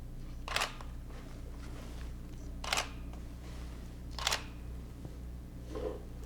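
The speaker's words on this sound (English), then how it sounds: "Hold down the shutter button and take a picture" Four separate Nikon D5000 camera shutter clicks, spaced a second or two apart, crisp and close over a low steady hum.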